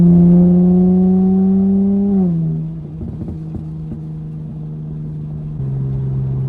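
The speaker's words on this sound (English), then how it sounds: "Let me get y'all some of these downshifts." Close engine note of a burble-tuned V6 Dodge Charger SXT on a back road: a steady drone that drops in pitch around two seconds into a downshift, followed by lower rumbling burbles and crackles, then settles into a lower steady hum near the end.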